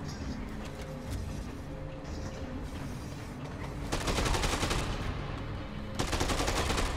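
Gunfire in the video game Dead Rising, with loud bursts of rapid broadband shots from about four seconds in, a gap, then another burst near the end, over busy game noise.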